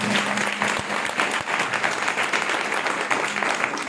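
A church congregation breaks into loud, sustained applause, many hands clapping in a dense, continuous roar that holds steady throughout without pause.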